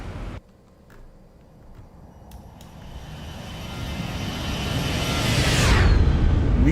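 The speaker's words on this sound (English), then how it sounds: "Let's do another flyby. Hold your ears." A simulated airliner in the X-Plane 12 flight simulator flies past, its engine roar swelling steadily from quiet to loud over several seconds and peaking in a bright, sweeping whoosh near the end.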